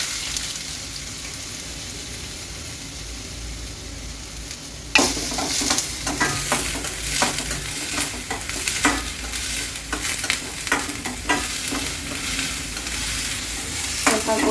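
Onions hitting hot oil in a pan for garlic chicken fry and then frying while stirred. A quiet hiss comes first, then a sudden loud, dense sizzle with repeated scraping strokes continues steadily to the end.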